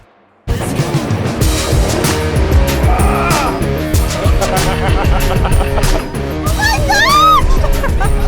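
A race car on a racetrack at high speed, its loud engine roaring and shifting continuously close to the microphone, with tire squeal near the end.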